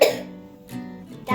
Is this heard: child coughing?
yes